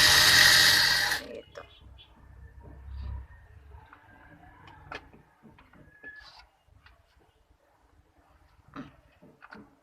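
A sewing machine stitching and gathering the waistband of a girl's half pant whirs loudly for about a second and stops, followed by quieter fabric handling, ticks and a person talking.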